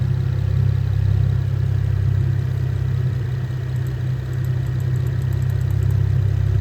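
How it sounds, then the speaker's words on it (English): A car engine idles close by with a loud, steady low rumble and a constant drone, holding an even level throughout with no clear rise in speed. "That's idle. And that is RPM increasing to about, what'd you rev to?"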